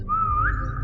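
A person whistles a single sustained note that bends upward partway through, clear and close, with low rumbling background noise underneath.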